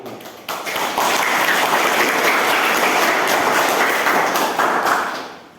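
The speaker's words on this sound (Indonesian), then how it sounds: "Mari kita memberikan aplaus untuk kelompok 1" A class gives applause for group 1, a sustained burst of many hands clapping that rises quickly, holds steady for about five seconds, then fades.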